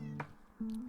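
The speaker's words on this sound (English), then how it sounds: "Sorry, that was my cat." A house cat gives a short, close meow, a single brief call rising out of quiet room tone, with a second softer tonal note following moments later.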